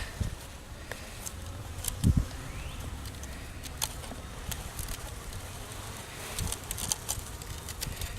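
Honeybees from a package swarm around a hive during installation, a faint continuous buzzing hum close by, broken by occasional clicks, taps and rustling handling noises.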